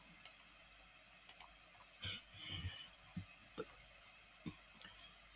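Sparse mouse clicks while building in Roblox Studio, about eight short, faint taps spread irregularly across a quiet background with no talking.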